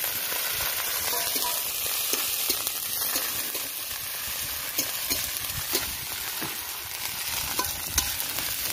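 Whole cumin seeds and chopped tomato sizzle steadily in a hot pan, a continuous close frying hiss with occasional soft stirring scrapes.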